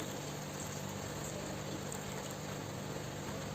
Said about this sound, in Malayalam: കുറച്ച് വെള്ളം കൂടി ചേർത്ത് കൊടുക്കുന്നുണ്ട്.